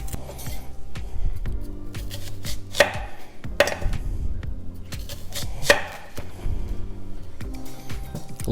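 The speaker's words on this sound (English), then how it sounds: "So you just cut it in circles." An onion is sliced into rings on a cutting board for a red scorpion hot sauce, the knife falling in steady chops with a few sharp, louder strikes and no talking.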